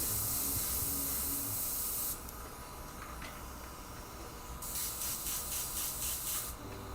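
An airbrush sprays paint onto a wooden skull panel in a steady, loud hiss that drops and swells in bursts as the trigger is worked, with faint ticking underneath.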